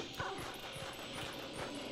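Wolf Link, the wolf form in the video game Twilight Princess HD, running with soft rhythmic paw thumps and brief canine yips and panting over a steady game-music bed, fairly close.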